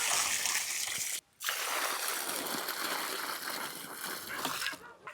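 Water pours in a steady, splashing stream, briefly cut off once, then continuing until near the end.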